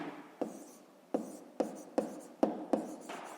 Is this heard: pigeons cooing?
no